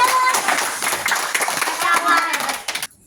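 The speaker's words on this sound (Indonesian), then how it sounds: "Beri tepuk tangan untuk kita semua." A classroom of students claps their hands together in a lesson, producing a dense, steady burst of close, lively clapping that lasts about three seconds before cutting off abruptly.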